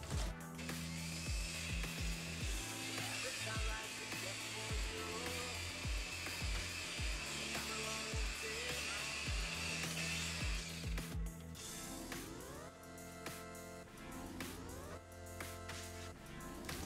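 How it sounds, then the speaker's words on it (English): An electric buffer works a scratch remover along a pool table rail, whirring steadily with uneven grinding and rattling pulses as it runs, then shifting to a rougher, broken pattern toward the end. "Just gonna hit it real slow with the buffer, see what happens."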